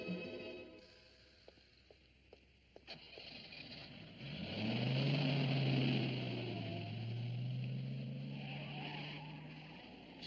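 In an animated Sherlock Hound scene, a car engine approaches and revs with a rising, wavering hum that swells loud and then settles. It follows a few sharp clicks and light taps in a quiet stretch.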